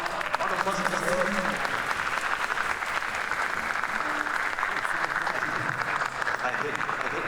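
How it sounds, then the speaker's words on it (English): Concert audience applauding a last-minute stand-in conductor, a dense, steady wash of clapping filling the whole stretch at close range, with some crowd murmur underneath. "Round of applause for Justin."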